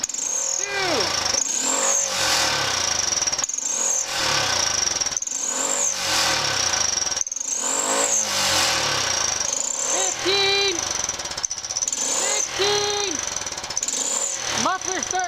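A Honda Pioneer 500 utility vehicle's engine is revved repeatedly in close, loud bursts, rising and falling in pitch roughly every second or two, with a raspy, hammering exhaust note.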